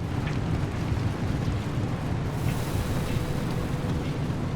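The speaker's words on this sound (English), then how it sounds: "Because it's raining" Steady rain in the video game Pacific Drive, a dense, even hiss with a low rumbling bed, constant and unbroken for the whole stretch with no talking.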